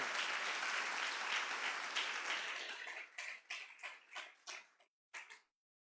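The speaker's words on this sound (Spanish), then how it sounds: "ahora el aplauso para Jesús" Congregation applauding in a church, dense clapping for about three seconds that thins into a few scattered claps and stops before the end.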